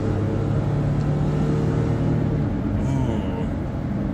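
A 2002 Toyota Highlander with 150,000+ miles downshifts under throttle, its raspy engine droning loud and steady throughout.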